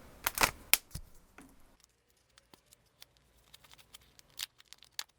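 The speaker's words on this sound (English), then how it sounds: "This is my first one, so I have to open up the package." Plastic packaging of a new embossing ink pad being torn and opened, a few sharp crinkling rips at the start followed by small scattered clicks and rustles, close by, with no talk.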